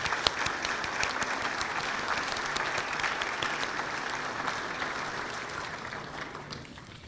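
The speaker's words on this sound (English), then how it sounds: "Let's give a great round of applause and welcome" A monthly program audience claps in welcome, an even, sustained wash of applause from many hands that fades slightly toward the end.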